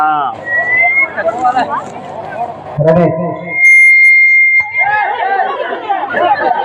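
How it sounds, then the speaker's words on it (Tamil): At a needle-threading competition, a shrill referee's whistle blows one long steady blast to start the contest, heard over a noisy crowd chattering and calling out. "விசில் அடித்தவுடன் போட்டி துவங்கிவிடும்."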